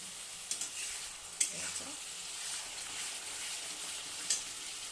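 Spices frying in bubbling oil for a soybean and potato curry, a steady hiss of sizzling with a few soft stirring clicks and pops, close and moderately loud with no talking.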